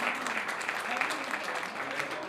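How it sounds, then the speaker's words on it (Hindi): A church congregation claps together during a sermon, producing a steady, moderately distant patter of many hands with no break. "तालियां भी बजा दें,"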